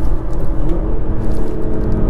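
Close and loud, a VW Golf Mk4 R32 engine rumbles and whirs steadily as it downshifts, a dense low growl with no talk over it.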